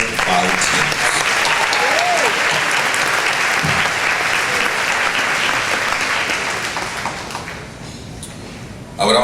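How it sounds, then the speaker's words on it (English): A room full of guests at a 2019 awards evening gives the volunteers a big round of applause, a dense, loud wash of clapping that holds steady and thins out near the end. "Please join me in a big round of applause for all of our wonderful volunteers."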